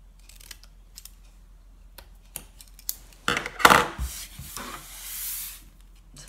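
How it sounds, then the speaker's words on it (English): Scissors cut wedges from a paper gift box, a few sparse snips and paper rustles building to a cluster of louder crisp cuts and crinkling up close, alone without talk. "Just cut a little wedge from each of the 4 sections."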